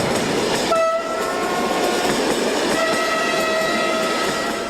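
A Portuguese intercity train on the Faro to Barreiro line passes close by with a rushing rumble and wheel clatter, and a sustained two-tone horn sounds briefly near the start and again later.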